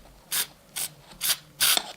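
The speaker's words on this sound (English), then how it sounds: "I'll close one end and spray directly down into the barrel with the cleaner." Cleaner is sprayed down into a Glock 17 pistol barrel in four short, evenly spaced hissing bursts, close and crisp with brief pauses between.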